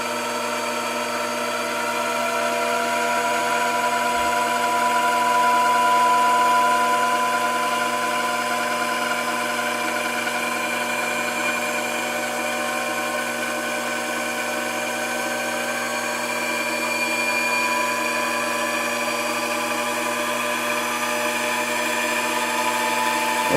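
A Grizzly mini lathe spinning up toward 1,000 RPM during break-in gives a steady, even mechanical whine and hum that holds nearly constant and runs alone throughout.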